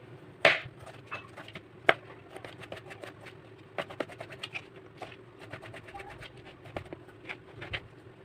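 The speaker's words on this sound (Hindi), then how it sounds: "दो टमाटर, इसे भी काट लेंगे।" Repeated sharp knife chops through tomatoes against a board, several crisp taps at an uneven pace, with cooing pigeons audible in the background.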